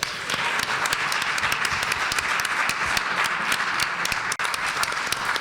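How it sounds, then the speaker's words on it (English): A roomful of people claps at a reparations symposium, a steady, moderately loud patter of hand clapping that continues evenly throughout with no talk over it. "Can we give him another hand clap?"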